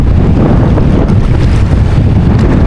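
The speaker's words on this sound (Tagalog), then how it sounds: "Sobrang lakas ng hangin" Strong wind at sea buffets a microphone with a loud, constant roar and low rumble, with the rush of waves beneath, and no voices.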